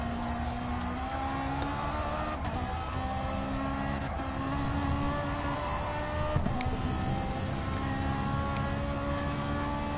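A Group 4 Ferrari race car in a racing video game holds a steady, droning engine note with a high whine throughout, with a couple of brief shifts or bumps partway through and no voices over it.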